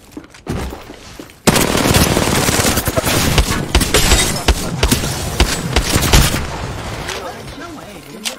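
Rapid bursts of automatic gunfire from an Apex Legends match, loud and dense, firing almost continuously after a short quieter lead-in, with faint voices talking underneath.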